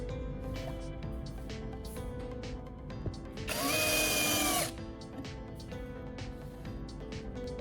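A power drill drives screws to fasten guide rails onto a base for a homemade table-saw jig, one whirring burst of about a second standing out from a steady background hum and scattered small workshop clicks.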